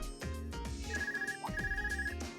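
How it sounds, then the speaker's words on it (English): A video game phone rings with a repeated electronic trill in two bursts, moderately loud over a busy musical backdrop. "Looks like I've got a call coming in."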